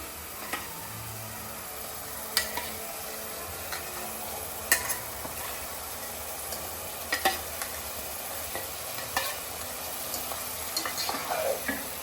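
Fried eggs being stirred into biryani masala in a pan, with a low continuous sizzle under intermittent spoon scrapes and taps against the pan, sounding close and fairly quiet.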